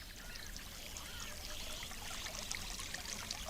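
Spring water trickles and pours steadily into traditional stone troughs on a farm, a continuous close splashing flow with a bright hiss, with faint bird calls in the background.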